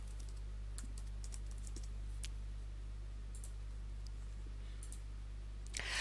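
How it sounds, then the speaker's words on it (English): Keystrokes on a computer keyboard while entering a chronic condition into patient medical records software, giving faint scattered clicks in short irregular bursts over a steady low hum. "I could type in the chronic condition from here."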